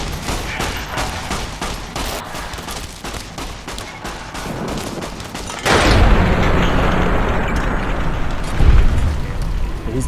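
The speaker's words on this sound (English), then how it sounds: "Turns out those gas bombs are really cool." Gas bombs exploding in Fallout: New Vegas, Dead Money: a loud rapid crackle of blasts gives way to a single heavy boom with a long rumbling roar, then another thump near the end.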